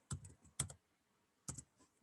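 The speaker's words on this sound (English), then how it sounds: "Here I'm typing." Quiet keystrokes on a computer keyboard come in a few short clusters with pauses between them, close but soft, during a word-processing lesson on tables.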